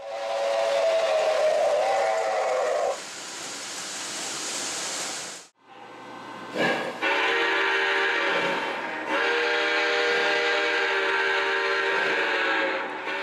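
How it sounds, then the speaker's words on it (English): A model Southern 4501 steam locomotive, an early-1990s version painted black, runs while its steam whistle sounds in long sustained blasts, loud and close, over the steady rumble of the running train. "This is the early 90s version of the Southern 4501, the Johnny Cash steam engine."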